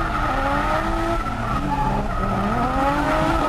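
Drift cars at a Japanese drift event, a Toyota JZX100, Nissan Skyline and AE86, screech their tires through a tandem corner, with a continuous loud squeal over steady engine roar and no talking.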